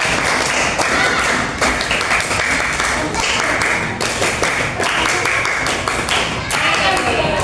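A crowd of children in a classroom claps together in quick bursts, with voices mixed in over the noisy, lively room.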